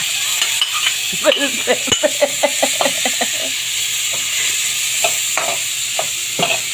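Sliced carrots hit a hot pan for a sweet and sour tilapia dish, giving a steady bright sizzle and hiss. A quick run of spoon clinks and scrapes comes early, with a few more later, and no one speaks.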